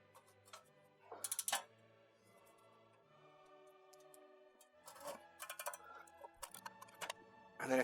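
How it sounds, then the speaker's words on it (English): A wrench works loose a rear brake bolt on a Saab 9-3, quiet clicking ratchet ticks in irregular clusters with a few metallic clinks, close up and without speech. "once you've got it broken with the wrench"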